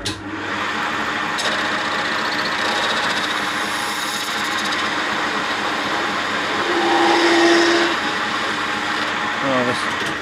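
Lathe with a CBN insert cutting a steel tractor steering column, a steady machining hum with a faint tonal squeal near the end of the cut.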